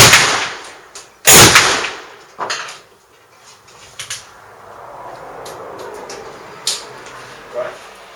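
Nearby, a single loud rifle blast from an 1848 prototype or 1851 Feldstutzer rifle cracks out sharply, followed by faint handling clicks and knocks as the quiet outdoor air settles.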